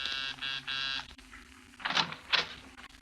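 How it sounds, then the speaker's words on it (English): A hotel door buzzer in an old-time radio drama sounds three short electronic buzzes in quick succession, followed by a pause and a couple of brief noisy bursts. "I was pressing a hotel buzzer."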